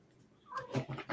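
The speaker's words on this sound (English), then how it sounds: "that is my cat" A house cat meows indoors, a short faint call followed by a couple of louder rising cries near the microphone.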